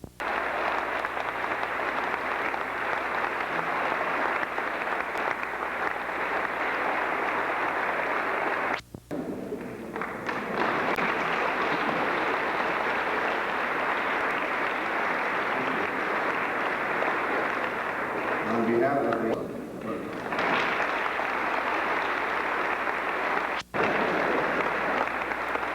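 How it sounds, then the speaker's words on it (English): An audience gives a long, loud round of applause for the members of the United States Collegiate Wind Band at a 1990 European tour concert, steady dense clapping with a couple of brief dips. "I think the band owes you a real big round of applause."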